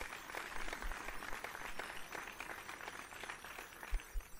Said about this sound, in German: Eine Runde Applaus für meine, ja, Fellow Graduates.